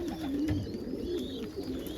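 Pigeons coo softly in the cold morning while being fed corn, low rolling calls repeating close by over a faint background hiss, with no one speaking.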